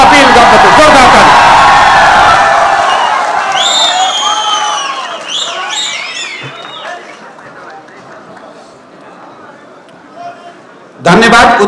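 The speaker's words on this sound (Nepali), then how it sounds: "जोरदार ताली" A political party's national convention crowd bursts into loud applause and cheering, with whoops and shouts, the clapping fading gradually before a fresh surge of applause at the end; a voice speaks over the opening.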